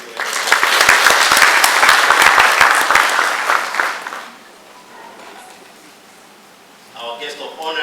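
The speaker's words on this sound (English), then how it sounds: "A big round of applause to you." At a Malawi Institute of Procurement annual general meeting, the audience breaks into loud, dense applause lasting about four seconds, which fades to near quiet before a voice begins speaking.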